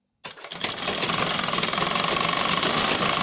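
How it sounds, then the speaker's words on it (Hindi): An electric sewing machine starts up and runs steadily while stitching tucks on a lined blouse piece, a loud, close, rapid mechanical whir with a fast regular rattle that continues without pause. "उसके बाद आपको जितना टक्स लगाना है उतना आप इसमें सिलाई कर सकते हैं"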